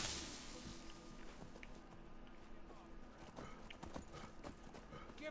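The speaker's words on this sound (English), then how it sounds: "Crazy horse." Horse galloping in the Skyrim video game, rapid clip-clop hoofbeats on the ground with a brief whinny, heard fairly faintly and in the mid-distance amid game ambience.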